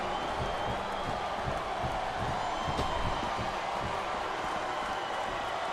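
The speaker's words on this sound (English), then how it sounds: "This capacity crowd is certainly getting its money's worth here tonight." Arena crowd in the SVR wrestling video game cheering as a dominant superstar rallies a capacity audience, a steady dense roar with scattered whoops and clapping that holds at constant loudness throughout.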